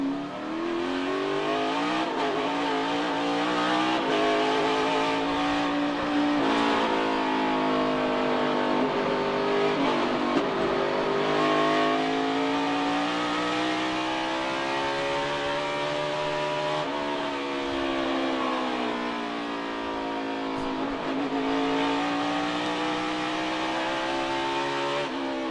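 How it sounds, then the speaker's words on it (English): A race car at Sonoma Raceway backs off the throttle and coasts into a corner, its engine note rising and falling in a steady, loud drone with sweeping pitch changes throughout, no voices over it. "he backs off the throttle and lets the car coast into the corner"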